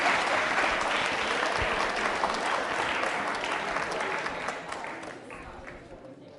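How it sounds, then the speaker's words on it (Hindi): An audience at a school quiz show for Navratra claps loudly for a participant, a dense sustained burst of applause that gradually tapers off toward the end, with no speech over it. "तालियां बजाइए जोरों से कविता के लिए"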